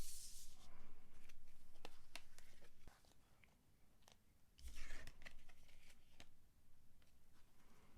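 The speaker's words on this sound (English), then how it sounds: "So I'm just going to organize these cards quickly." Tarot cards being organized and shuffled, giving soft, quiet riffles, taps and brisk flutters in a hushed setting.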